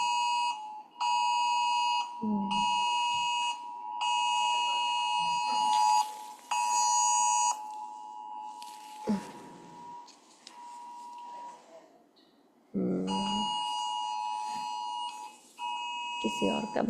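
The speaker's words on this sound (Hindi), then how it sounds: "अलर्ट अलार्म आ रहा है।" An electronic alarm rings in repeated loud beeping bursts with short gaps, stopping and restarting, while someone speaks between and over the beeps.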